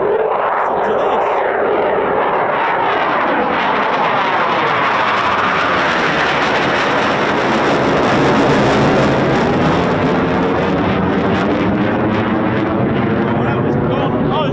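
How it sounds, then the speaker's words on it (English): A Eurofighter Typhoon FGR4 makes a performance takeoff with reheat at an RAF station. The loud, sustained jet roar swells and shifts in pitch as the aircraft passes, with people talking beneath it. "Looks like a performance takeoff. Or it sounds like one."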